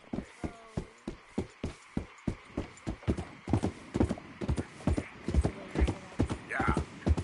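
A horse's hooves clip-clop steadily in Red Dead Redemption II, a crisp, evenly spaced run of clear hoofbeats that grows slightly louder and denser toward the end.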